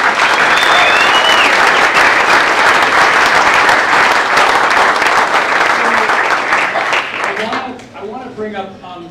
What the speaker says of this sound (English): So give yourselves a big round of applause for making this happen.